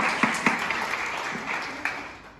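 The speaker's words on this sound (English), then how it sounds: "Give a big round of applause for them." Applause from the audience at a bilingual student debate competition, a broad sustained wash of clapping with a few sharper nearby claps standing out, slowly fading toward the end, no talk over it.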